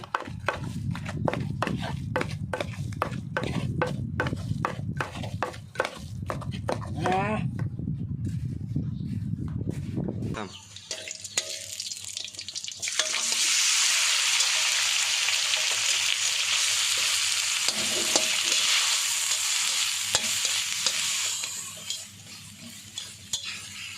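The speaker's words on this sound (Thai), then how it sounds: "ผัดให้มันหอมๆก่อนนะคะผัดปลา" Fish stir-fried with pounded aromatics in a pan: rhythmic spatula strikes and scraping for the first ten seconds, then a loud continuous sizzle once the heat rises, with a voice speaking over the start.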